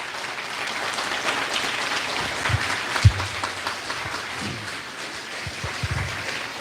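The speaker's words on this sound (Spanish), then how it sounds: "Ese aplauso fuerte para el Señor." Loud, steady applause from a church congregation at a charismatic healing and deliverance gathering, a dense wash of clapping that holds evenly throughout with a few sharper claps standing out, and no talking.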